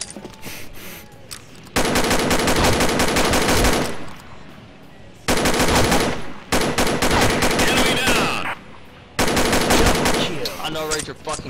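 Rapid gunfire bursts from a shooting video game round, long loud automatic volleys separated by short quieter gaps, with faint voice chatter underneath.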